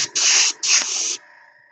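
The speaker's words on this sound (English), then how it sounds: "Let's spray some purple." Two close hissing bursts of purple spray paint from an aerosol can, the first lasting about a third of a second and the second about half a second, followed by near silence.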